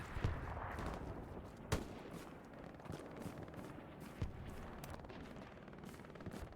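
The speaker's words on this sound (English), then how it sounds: "Looking to put a rocket on that garrison." Distant, muffled detonations and gunfire in a Hell Let Loose match on the Carentan map, a few sharp booms spread across a busy battlefield rumble, one standing out early and another later.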